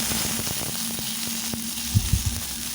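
Mustard seeds, fenugreek and asafoetida sizzle and fry in hot oil, a steady close crackle with a few louder pops near the end and no talking.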